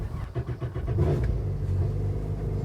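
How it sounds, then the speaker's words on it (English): Port-side motor of a Yamaha jetboat starting up, a few sputtering cranking pulses catching into a steady loud idling drone, close by with no talking. "So that's the motor you're going to start."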